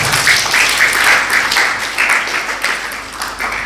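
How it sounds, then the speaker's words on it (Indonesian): An audience claps loudly for parents at a talk, a dense, sustained burst of applause that holds steady for several seconds before easing slightly. No speech is heard over it. "Kita berikan tepuk tangan buat orang tua."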